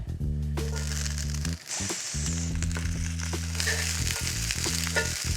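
Asparagus fries in olive oil in a pan, a steady close sizzle crackling throughout, with a low musical hum running beneath and a brief dip partway through.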